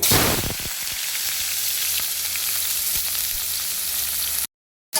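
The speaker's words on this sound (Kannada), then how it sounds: "ಆಯಿಲ್ ಚೆನ್ನಾಗಿ ಕಾದ ನಂತರ ಸ್ವಲ್ಪ ಈರುಳ್ಳಿ ಹಾಕ್ಕೊಳ್ಳಿ" Chopped onion sizzles loudly in hot oil in a pan, a dense steady frying hiss with a burst of crackle at the start, continuing without talk until it cuts off abruptly near the end.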